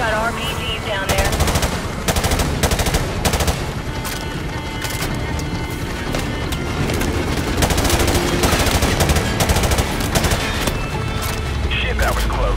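Machine gun fire in the Modern Warfare Remastered video game during a Marine invasion mission, dense loud automatic bursts with booms and impacts, interspersed with radio-style voices speaking.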